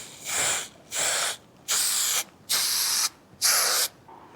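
Five short, loud bursts of aerosol spray adhesive inside a van, each about half a second, separated by brief pauses, close up with no talking.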